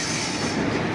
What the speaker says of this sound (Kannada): ಸೊ ನಾವು ಓಡೋದಂಥ ಟ್ರೈನ್ ಕೂಡ ಬಂದಾಯಿತು